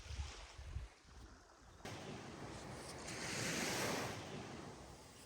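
Sea waves washing onto the shore beside a parked camper van, a broad rushing surf that swells louder midway, with gusty wind buffeting the microphone.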